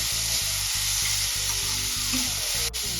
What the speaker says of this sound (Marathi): हे सर्व साहित्य आपल्याला फक्त काही सेकंदासाठी फ्राय करून घ्यायचे आहे